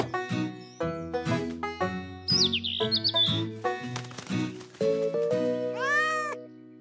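A cat stuck up a tree meows repeatedly in a cartoon scene, the cries loud and close over background music with bright chirping tones mixed in.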